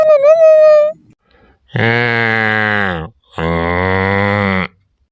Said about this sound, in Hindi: या देखा कितना रो दिया हमार भैंसिया